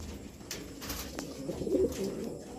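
Racing pigeons coo softly at their loft after returning from a 100 km training flight in Pangasinan, with a few low, throaty calls rising briefly over quiet background noise.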